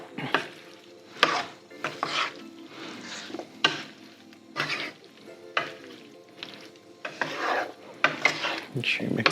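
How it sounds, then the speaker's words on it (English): Zucchini calabacitas is stirred in a pan, a spoon scraping and rasping in irregular bursts over a faint sizzle, close and fairly loud, with no talking. "Make sure you mix it up."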